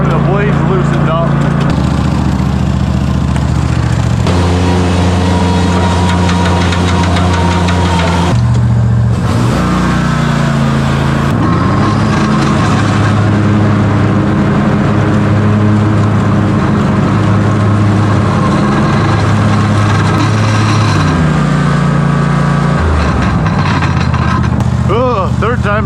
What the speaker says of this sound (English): I got the mower running